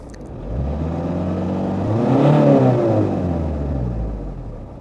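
A car engine revs up steadily to a peak and then eases back down, a loud close droning rumble with a rising and falling pitch and no voices.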